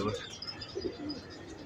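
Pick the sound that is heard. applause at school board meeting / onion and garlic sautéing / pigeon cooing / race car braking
pigeon cooing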